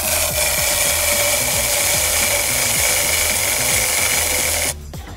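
A clamped chain-cleaning tool on a bike's lower chain run whirs and rattles steadily as the pedals are turned backwards, indoors in an apartment, then cuts off abruptly near the end.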